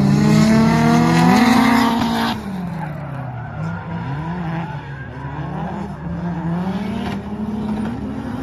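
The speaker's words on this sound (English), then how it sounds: "drifting with S14" A Nissan S14 drifts, its engine revving hard and wavering while the tires squeal and skid, loud and close throughout with no talk over it.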